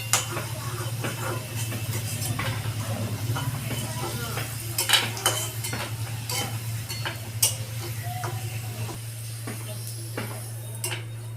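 Fried potatoes being lifted out of hot oil with a utensil, bringing repeated metallic scrapes and clinks against the pan over a faint sizzle and a steady low hum.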